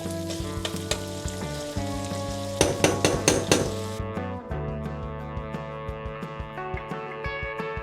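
Butter sizzling and browning in a coated frying pan, a steady crackling fry with rhythmic scraping and clinking from a wooden utensil stirring, busy in the middle and lighter toward the end, with no talking.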